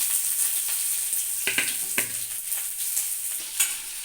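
Onions fry in hot oil in a pan for a vegetable chutney, crackling and sizzling steadily with a few sharper bursts and scraping stirs.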